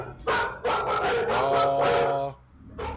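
Two dogs barking indoors at home, a quick run of close, loud yips and barks with a brief pause before a final bark.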